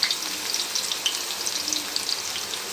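Chicken gravy ingredients frying in hot oil with turmeric, a steady close sizzle with crackling pops throughout and no voices.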